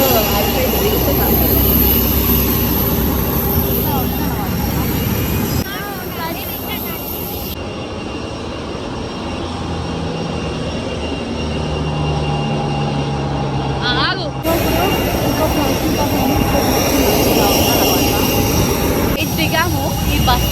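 Passenger jet engines roar loud and steady inside the cabin just after landing on a flight to Varanasi, a continuous broadband rumble that dips briefly midway, with people talking over it.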